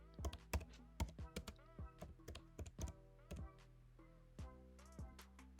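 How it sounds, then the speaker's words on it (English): Typing on a computer keyboard for a design search, a quick irregular run of close, crisp key taps and clacks with short pauses between bursts, fairly quiet with no voice. "type in YouTube Outro"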